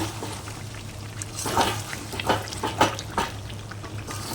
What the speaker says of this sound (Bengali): চিকেন থেকে তেল বেরিয়ে এসছে কষানো কষানো প্রায় হয়ে গেছে